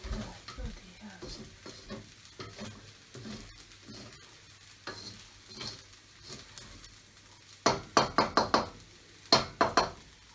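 Fried rice sizzling and being stirred in a pan, a quiet background crackle punctuated near the end by loud bursts of scraping and knocking from the spatula, with no talk.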